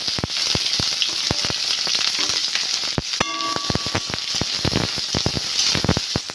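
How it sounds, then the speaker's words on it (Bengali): Garlic, ginger and onions sizzling and frying in hot oil, a steady loud crackle with dense popping and spitting throughout, no voices. "তেলটা গরম হয়ে গেছে, আমি রসুন দিয়ে দেবো, একটু আদা দিয়ে দেবো, এবার পেঁয়াজগুলো দিয়ে দেবো।"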